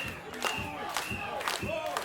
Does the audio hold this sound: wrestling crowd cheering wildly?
yes